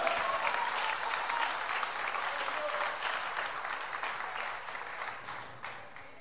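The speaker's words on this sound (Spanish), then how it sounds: "Dale un aplauso a tu Dios." A church congregation breaks into sustained applause that fills the room, dense clapping from a large crowd that gradually tapers toward the end.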